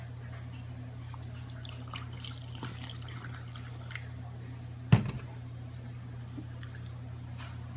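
A cup of water being poured into waffle mix in a home kitchen: a soft, faint trickle and splash over a steady low hum, with one brief louder splash midway.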